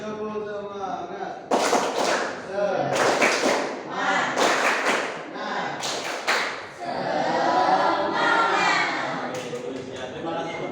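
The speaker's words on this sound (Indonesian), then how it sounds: "Tepuk semangat." A classroom of students performs a rhythmic spirit clap, bursts of group clapping in a patterned rhythm with some shouting voices mixed in, loud and close.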